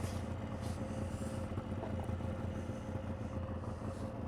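A Yamaha Vmax 700 triple snowmobile engine idles with a steady, low rumble throughout, with no other sounds standing out.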